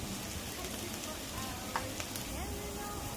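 Onions and plenty of tomatoes fry in a pan for a Malvani dry fish chutney, a steady moderate sizzle with occasional pops and light stirring.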